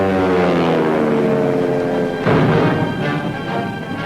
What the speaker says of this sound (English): A Nazi raider is caught by the camera as he's shot down in the ensuing dogfight.